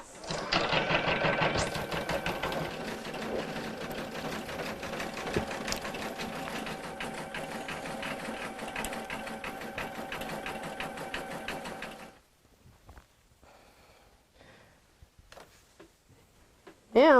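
An embroidery machine sews a basting stitch through two layers of pink-trimmed baby bloomers, holding a loud, steady mechanical hum with fine ticking for about twelve seconds. It then stops, leaving faint handling noises and a sudden sound at the end.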